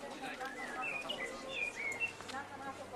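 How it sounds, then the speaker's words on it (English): Small birds chirp and tweet in quick, high bursts, moderately distant, over a soft outdoor background hum at Yad Vashem in Jerusalem. "let us hear the birds and not ourselves."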